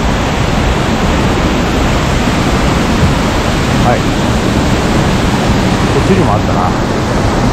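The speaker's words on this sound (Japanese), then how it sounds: "なんかこの間いた乗鞍の三本滝っぽいこう何本もこう滝が出てるようなところですね" A waterfall pours down in several separate streams in autumn Oku-Nikko, a loud, dense, constant rushing roar close by, with a voice speaking briefly over it.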